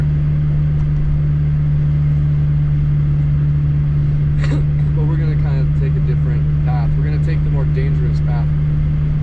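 A car drives through heavy snow on the road near Big Bear, a steady low engine drone with a strong constant hum continuing throughout while people talk over it in the second half.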